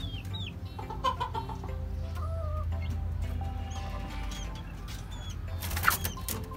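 Gamefowl, including Boston-line roosters, cluck and chirp in a rooftop poultry pen, with soft repeated clucks and higher calls from several birds over a steady low hum and a brief flutter near the end.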